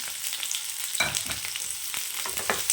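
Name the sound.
onions frying with curry leaves and coconut for fish curry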